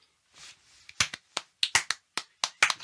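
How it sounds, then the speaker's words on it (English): A handful of sharp, separate hand claps on a podcast, loose and uneven in rhythm, close by and fairly loud, after a soft rustle. "we'll give him some strong applause"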